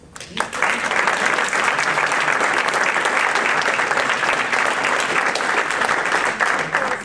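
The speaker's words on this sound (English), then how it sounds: "So I want you to give a round of applause" Sustained crowd applause at a University of Houston address, thick and steady from start to finish, close and loud with faint voices mixed in.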